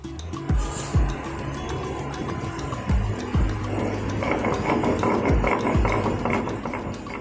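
Coriander and mint leaves are ground together on a stone slab (shil), producing a steady rhythm of dull knocks and scraping as the grinding stone rocks back and forth, close and moderately loud.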